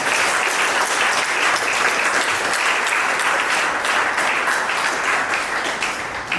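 Guests at a civil wedding ceremony applaud steadily and loudly for several seconds, a dense, even wash of clapping with no voices over it.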